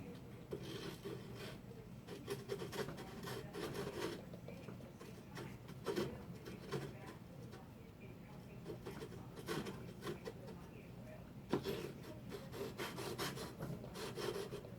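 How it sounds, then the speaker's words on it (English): Scope rings on a Remington 700 being worked with a lapping bar, a faint continuous back-and-forth rubbing and rasping in a steady rhythm, with occasional soft knocks. "Okay, I'm going to put the lapping bar back in."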